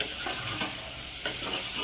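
Peas and potatoes with cumin tempering are stirred in a pan over a steady sizzle, with the spoon scraping in two or three strokes, close and alone.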